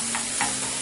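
Garlic sautéing in a pan for Lebanese spicy red snapper, a steady close sizzle with two brief stirring scrapes, no talking.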